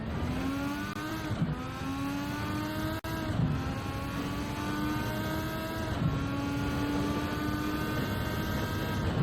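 Race car engine in Gran Turismo 7 driving through corners, a near, loud whining engine note that drops on downshifts and climbs again in repeated rising sweeps as throttle is applied on exits.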